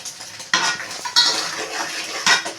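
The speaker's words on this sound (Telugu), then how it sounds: "మొత్తం ఉల్లిపాయ పచ్చిమిరపకాయ కలిసేటట్టు బాగా శుభ్రంగా కలిపేసుకుందామండి" A spoon stirring spices into a dried prawn curry with onion and green chili, several loud metallic scrapes against the pan over a soft frying hiss, close up.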